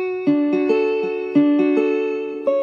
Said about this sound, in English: And you can also add sustain.